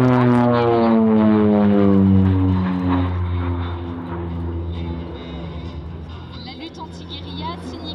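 North American OV-10B Bronco, a twin-turboprop ground-attack aircraft, flying a display at the Gap-Tallard air show. Loud steady propeller drone with shifting pitch, gradually easing as it moves away, with a voice talking over it.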